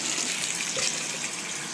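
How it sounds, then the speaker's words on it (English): Clean water runs from a tap in a steady, close gush over a fine net used for straining baby brine shrimp, with no other sounds. "run a little clean water over it"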